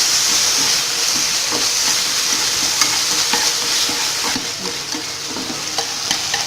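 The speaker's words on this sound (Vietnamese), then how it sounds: "Chúng ta phải xào thịt bò đến lửa lớn thì thịt bò mới nhanh chín" Beef stir-fries in a pan over high heat, a loud, steady sizzle and hiss with faint scraping stirs throughout, close up and with no talking.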